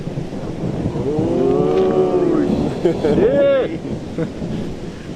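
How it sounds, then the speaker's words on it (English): Thunder rumbles low and steady around a mountain lodge in Imlil in Morocco's Atlas range, with people talking over it throughout. "Meanwhile, thunder."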